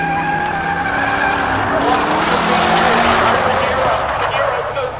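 Race cars, including a Subaru and a BMW, charging down the lanes at Seekonk Speedway's spectator drags, with loud continuous engine roar and tire squeal close by, a commentator's voice talking over it throughout.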